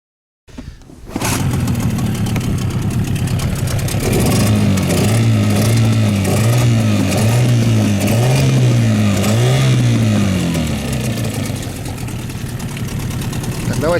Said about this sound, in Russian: Скоростные характеристики, звук работы мотора